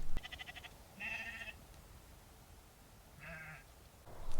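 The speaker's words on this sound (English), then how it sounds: "It was the local sheep, waking me up to ensure that I continued the mission and didn't miss the morning view." Sheep bleat twice near a tent in the morning, with separate calls a couple of seconds apart at moderate distance over outdoor ambience.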